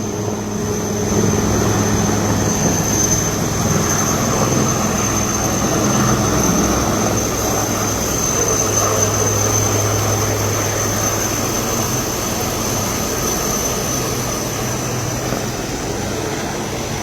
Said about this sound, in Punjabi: ਹੈਲੀਕਾਪਟਰ ਦਾ ਤਰੀਆ ਚੱਕਰ ਹੈ